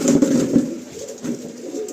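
Pigeons in a full loft coo in soft, low repeated phrases, close by with steady murmuring and no voices.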